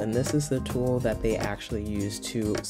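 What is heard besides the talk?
No everyday noises stand out.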